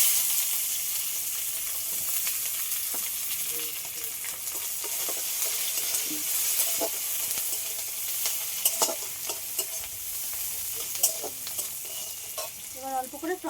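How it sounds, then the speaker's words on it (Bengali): Cumin seeds, bay leaf and chopped onion sizzle steadily in hot oil for chicken cooked with ripe mango, a continuous bright crackle with occasional stirring scrapes and a brief voice near the end. "ফোড়নে জিরে দিয়ে দেবো তেজপাতা অল্প করে পেঁয়াজ কুচি"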